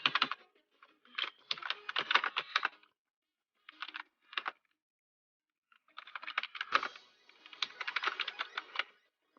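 Bursts of close, crisp typing on a computer keyboard, clustered clicks in several runs with short pauses between them, no voices.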